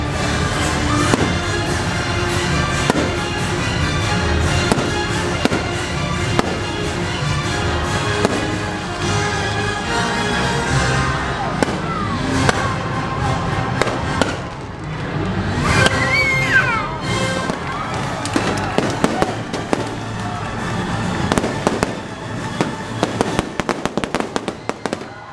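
Fireworks show seen from a Disney Fantasy cruise ship during a November 2024 voyage: a continuous barrage of booms, crackles and sharp pops, loud and layered, building to a dense rapid-fire finale.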